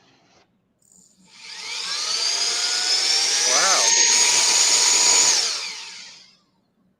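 A powerful vacuum cleaner motor spins up and runs with a loud, steady, rising whine for several seconds close by, then winds down, while a voice briefly exclaims over it.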